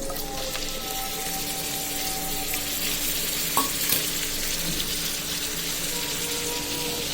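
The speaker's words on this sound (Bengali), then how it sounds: "তেল গরম হয়ে আসছে, আবার কেটে রাখা পেঁয়াজ, রসুন, কাঁচামরিচ আর চিংড়ি মাছগুলো দিয়ে দিচ্ছি।" Chopped onion, garlic, green chillies and shrimp frying in hot oil, a dense, steady sizzle with faint stirring and a few brief knocks, close with no talk.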